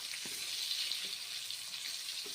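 Pointed gourd (potol) slices frying in a pan of hot oil, a steady close sizzle running throughout with a few faint stirring knocks.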